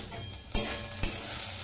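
Okra frying in a wok (kadhai), stirred with a spoon; a low sizzle runs throughout, broken by two sharp scraping stirs about half a second apart.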